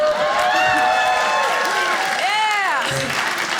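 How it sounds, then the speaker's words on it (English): Applause and cheering from a comedy show audience fill the room, loud and dense, with whoops and voices rising over the clapping. "By a round of applause"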